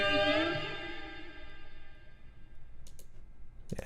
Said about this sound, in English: I wanted some guitars that kind of bend up and